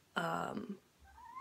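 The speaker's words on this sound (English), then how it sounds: "That was my cat." A pet cat gives one loud, drawn-out meow close by, followed by a short quieter trailing call and then faint background sound.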